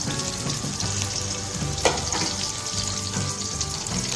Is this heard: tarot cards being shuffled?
no